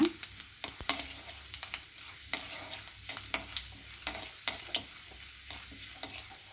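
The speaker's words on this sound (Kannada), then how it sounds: "ಒಂದು ಸ್ಪೂನ್ ಉದ್ದಿನಬೇಳೆ ಉದ್ದಿನಬೇಳೆ ಜೀರಿಗೆ ಒಂದು ಸ್ವಲ್ಪ ಜೀರಿಗೆ ಇದೆಲ್ಲ ಫ್ರೈ ಮಾಡ್ಕೊಳ್ಳೋಣ" Urad dal and cumin seeds frying and being stirred in a pan for mango chitranna, with a steady close sizzle and repeated sharp scraping clicks of a spoon against the pan, no talking.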